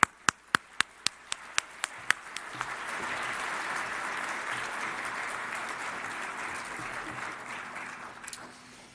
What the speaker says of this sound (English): we should all applaud Chris as he comes up